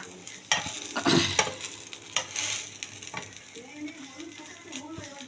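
Patishapta pitha frying one after another in a pan, a soft sizzle under scraping and stirring clatter from a utensil, with occasional louder clicks near the start and quieter cooking sounds toward the end.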